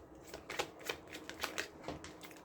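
Tarot cards are shuffled by hand in quick, rhythmic riffling strokes, close and fairly soft, repeating steadily with no talking.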